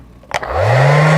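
A hair dryer switches on close by and blows steadily at full power, drying a freshly finished acrylic sunrise painting before the masking tape is removed.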